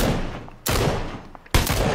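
Gunfire in the video game PUBG during a squad match: two sharp, loud shots about a second apart, each ringing into a brief tail over a low, steady background.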